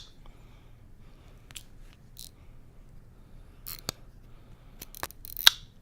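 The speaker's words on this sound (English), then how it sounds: "That is the ratcheting sound." Faint, sparse mechanical clicks from the ratcheting lock of a Spyderco Navaja folding knife in a quiet room, single ticks spread out over several seconds with a slightly sharper click near the end.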